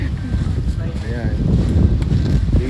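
Wind gusting at an off-road base camp on a Mt Pinatubo trail, a steady broadband rush buffeting the microphone throughout, with people talking over it.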